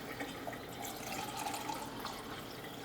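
Hot water is poured between tomato paste cans, making a faint, continuous trickling and splashing close by, with no talking.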